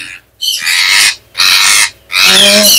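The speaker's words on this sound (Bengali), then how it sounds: "এই হলো রিং রেডের ফিমেল পাখিটা" A female ringneck parakeet gives three loud, harsh, rasping calls up close, each about half a second long and separated by short pauses.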